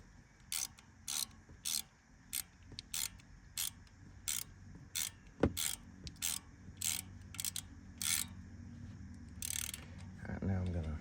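Ratchet wrench tightening bolts during an oil change on a Honda Rancher 350 ATV, a steady series of short clicking ratchet strokes in regular rhythm, close but fairly quiet, with a sharp metallic clank midway.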